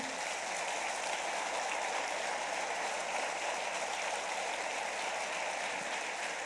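A church congregation at an evening service applauds in a steady, continuous wash of clapping, even and moderately quiet, like a distant roar filling the room with no voices above it.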